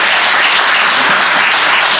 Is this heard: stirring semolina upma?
no